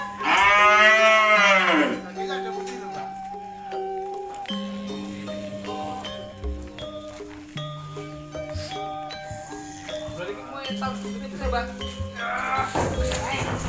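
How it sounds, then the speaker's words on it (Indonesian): Bull cattle low repeatedly, with loud, drawn-out moos one after another as they are unloaded from a truck at a farm pen. Other calls and background voices are heard between them. "Kita akan melihat proses penurunan sapi."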